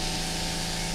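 A continuous, dense hiss of spray paint is directed over 3D printed clone trooper armor, steady and close, with no pauses and no voices.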